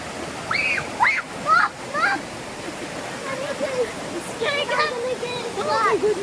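Creek water running over rocks in a rainforest gorge at Finch Hatton Gorge, a steady broadband rush under the whole stretch, with people talking and calling over it.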